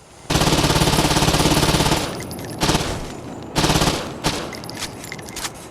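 Submachine gun fire in the Saints Row 2 video game: a loud, rapid sustained burst of about two seconds, followed by several shorter bursts with brief gaps between them.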